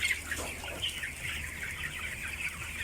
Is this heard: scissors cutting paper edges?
no